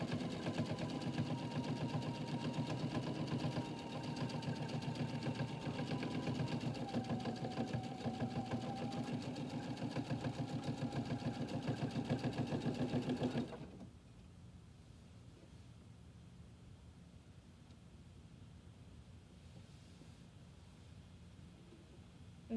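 Sewing machine stitching with a steady mechanical whir for about thirteen seconds before stopping abruptly, leaving quiet room tone.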